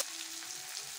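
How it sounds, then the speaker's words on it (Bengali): A paste of onion, garlic and ginger fries in hot oil, a brief dense sizzling hiss that holds steady and close without pauses. "দিয়ে দিচ্ছি পেঁয়াজ রসুন আদা বাটাটা দিয়ে দিচ্ছি"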